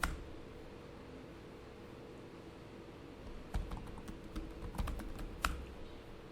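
Keys clatter on a computer keyboard as a git push command is typed, a quiet room at first, then a short burst of crisp close clicks in an uneven rhythm.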